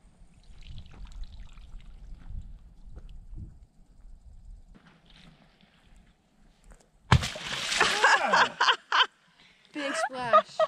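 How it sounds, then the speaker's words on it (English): Something drops into water with a sudden loud close splash, then sloshing and dripping follow. Before it come faint outdoor rumbles, and someone talks over the end. "Big splash."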